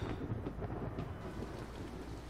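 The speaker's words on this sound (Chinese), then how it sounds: "下雨打雷了" Steady heavy rain pours at night while deep thunder rumbles underneath, a dense continuous wash of sound with no voices.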